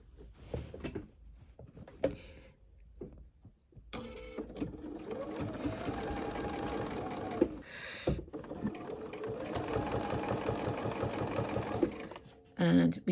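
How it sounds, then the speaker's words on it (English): A sewing machine runs in sustained bursts while top stitching the binding on a quilt, its rapid mechanical chatter fairly quiet and interrupted by short pauses, with a person talking over parts of it. "So you can now top stitch."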